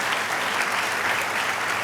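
A church congregation claps for Jesus in a steady, dense round of applause that holds evenly from start to finish, filling the room without pauses.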